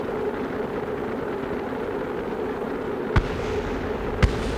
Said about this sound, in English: Things are exploding around me.